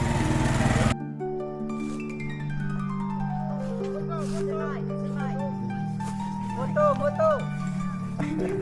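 A motorcycle engine drones steadily along a trail in northern Vietnam, its pitch gliding up and down as it passes, with people talking over it.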